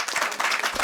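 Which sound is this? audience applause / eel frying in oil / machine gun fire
audience applause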